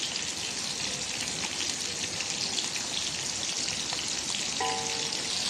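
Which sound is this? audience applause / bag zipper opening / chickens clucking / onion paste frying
onion paste frying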